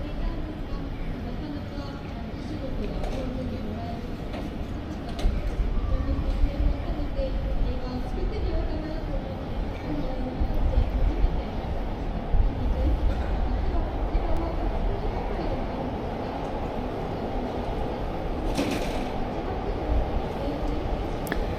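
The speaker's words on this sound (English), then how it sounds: "let's wait for a choo-choo" Train rolling past on a Tokyo street, a steady low rumble and clatter that swells from about five seconds in and holds fairly loud under city ambience, with talk heard intermittently over it.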